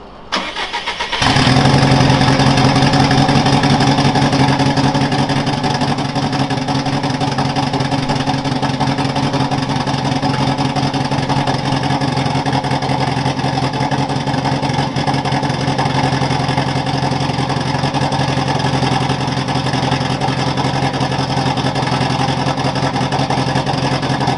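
Subaru GC8 with a swapped 2006 STI engine cranks and fires, then idles steadily and loudly up close on its own power for the rest of the time, no voices.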